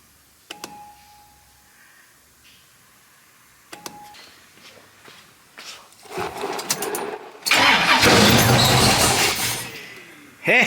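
A Pontiac engine with a carburetor and a suspected failed fuel pump cranks and struggles to catch. It starts with sparse clicks and quiet, then grinds harder and grows into loud, sustained sputtering roar near the end. A voice is heard briefly at the start.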